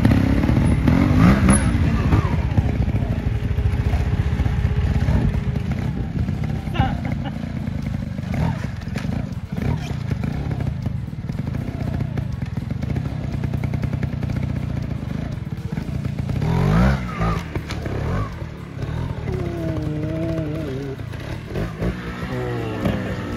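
A motorcycle engine idles and revs up close by, rumbling continuously with throttle swells and some rattling, no voices over it.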